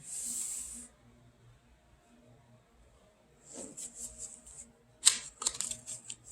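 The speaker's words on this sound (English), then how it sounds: "I'm shuffling through tarot decks trying to decide which one to use here" Brief papery riffles and soft flicks of tarot cards being shuffled, in short bursts separated by quiet pauses.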